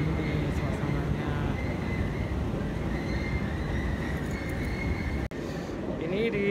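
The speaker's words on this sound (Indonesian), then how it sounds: "Ini di suasana kereta, stasiun kereta Châtelet-Les Halles." Train station ambience at Châtelet-Les Halles in Paris: a steady, fairly loud underground rumble of trains and machinery with a faint tonal hum and a few distant indistinct voices.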